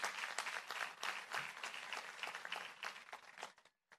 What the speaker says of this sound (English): So we applaud you.